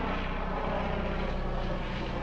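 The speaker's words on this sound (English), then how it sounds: "Yep, that's my helicopter." Steady, loud rotor and engine drone of an Apache helicopter flying in, with a rhythmic low thumping pulse throughout and no talking.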